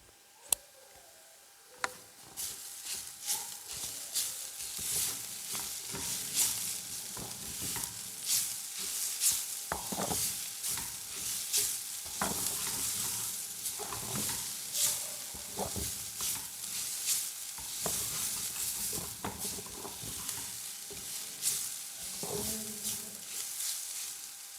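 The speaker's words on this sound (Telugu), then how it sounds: "ఒకసారి కలుపుకుందాం." Carrot and egg curry stirred in a pan, with soft sizzling under repeated scraping and clinking of a spoon, fairly quiet and close, no talking.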